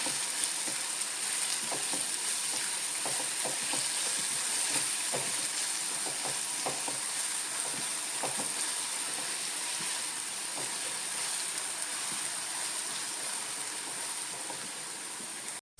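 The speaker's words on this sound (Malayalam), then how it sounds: "ഇളക്കി ഇങ്ങനെ വാട്ടിയെടുക്കണം" Ripe plantain being stirred and sautéed with sugar in a pan, a steady continuous sizzle with soft scraping strokes of a spoon through most of the clip, no voices.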